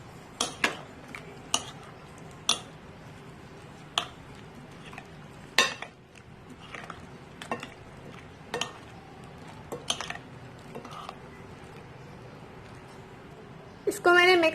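Chickpeas being mixed with tamarind chutney and yogurt in a bowl for chana chaat, giving repeated sharp clinks of a spoon against the dish with soft stirring in between and a few louder knocks near the end.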